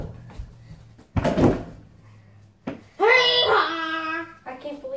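A freshly repaired house door is opened and shut, giving two sharp knocking thuds a moment apart, while someone talks nearby.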